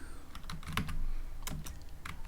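Typing on a computer keyboard during coding, a close series of quick, uneven key clicks with short pauses, heard alone.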